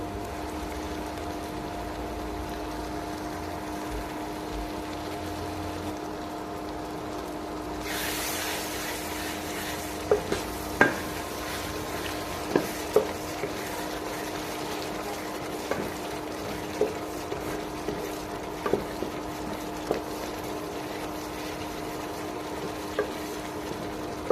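Shrimp brains (golda prawn) being stir-fried in a pan give a steady low sizzle, broken by sharp intermittent spatula taps and scrapes, with no one speaking.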